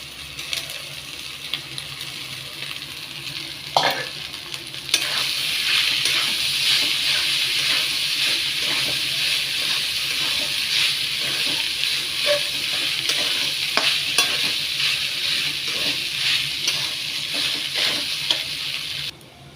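Boiled rice with masala sizzles in a hot frying pan as it is stirred and scraped, with intermittent clatter and knocks over the steady frying hiss.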